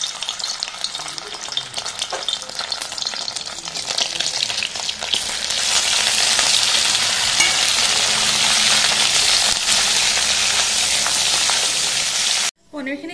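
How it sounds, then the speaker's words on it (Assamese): Paneer frying in hot oil for a pulao, a steady loud sizzle that swells and holds for most of the stretch before cutting off near the end, with faint stirring clicks. "পনীৰখিনি প্ৰথমতে অকণমান ভাজি ল'ম"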